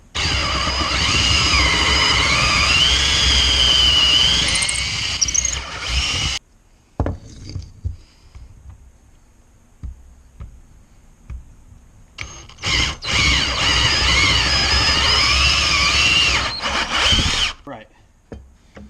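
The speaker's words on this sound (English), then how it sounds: "I'm going to drill halfway through and then flip over and drill halfway through from the other side, so we don't have any tear out" A power drill with a 3/8 inch bit bores through wood for a mallet project, whining loudly in two long bursts separated by a quieter pause with handling noise, and a voice speaks around the drilling.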